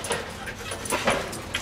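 Dogs on a rat hunt whimpering and panting close by, short breathy pants and high yips overlapping in a busy, restless patch of sound.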